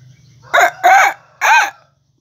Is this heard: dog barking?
no